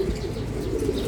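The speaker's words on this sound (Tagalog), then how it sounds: "nakakulong yung mga ibon natin" Caged pigeons coo in a low, steady murmur, with faint chirps and a brief rustle of wings mixed in, close by and continuous.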